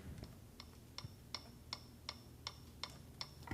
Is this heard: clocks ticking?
yes